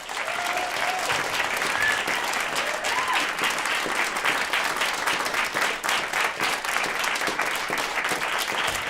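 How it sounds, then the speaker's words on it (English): Sustained audience applause in a live performance space after a piano trio's concert, dense and steady throughout with a few faint voices and cheers mixed into the clapping. "So another round of applause."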